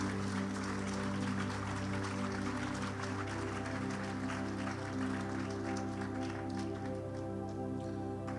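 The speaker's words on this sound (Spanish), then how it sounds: "Denle un aplauso a Jesús." Church congregation clapping in steady applause throughout, over a held musical tone with sustained notes, moderately loud and continuous with no speech.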